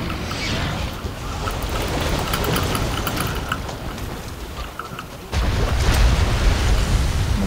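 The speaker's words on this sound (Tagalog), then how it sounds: "Maglihok ang karakter sa tubig." Character moving through water in Monster Hunter World, a continuous rushing, splashing wash like surf with wind, steady then jumping louder and fuller near the end.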